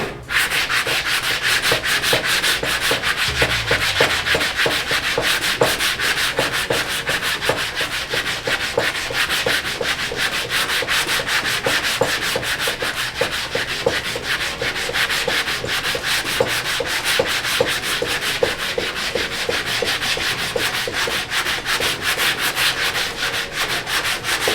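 Continuous hand sanding scrapes rhythmically back and forth across a car body panel, close and steady for the whole stretch, with no talking.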